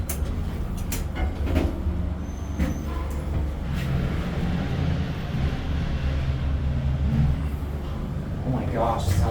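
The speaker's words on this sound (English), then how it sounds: "Oh, we got a fan in here." A ventilation fan runs inside a Dover hydraulic elevator car in a parking garage, giving a steady, close, continuous whirring hum with a low rumble and no clear breaks.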